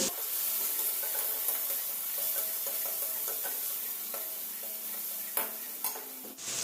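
Onion, ginger-garlic paste, chilli paste, cumin-coriander paste, turmeric and salt sautéing for fish curry, a continuous close hiss and sizzle with a spoon scraping and stirring the pan, a few sharper knocks near the end.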